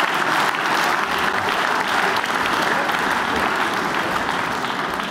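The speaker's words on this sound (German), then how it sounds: "ist noch mal ein Applaus wert" Dense, sustained applause from a large audience fills the hall at a CDU Baden-Württemberg political Ash Wednesday rally in Fellbach, steady and loud for the whole stretch with no break.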